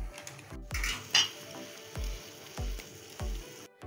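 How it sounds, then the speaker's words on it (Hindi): Maggi noodles cook chowmein-style in a pot of very hot water on a gas stove, with faint bubbling and a utensil clinking against the pot in a steady, repeated stirring rhythm, nearby and without speech. "अब पानी हमारा बहुत गर्म हो गया है, अब मैगी रख देंगे।"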